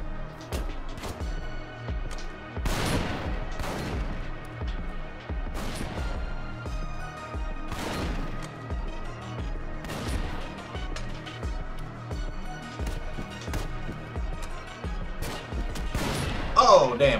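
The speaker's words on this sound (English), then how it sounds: "I was just shooting some folks" Gunfire in the brawler video game Mother Russia Bleeds, a run of loud, sharp shots at irregular intervals amid crashing impacts and game clatter over a busy, dense background.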